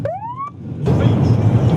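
Siren from a Ukrainian traffic-police and fire-engine convoy on a Cherkasy street, giving one loud rising wail for about half a second before it cuts to a dense, steady roar of road and engine noise with no talk.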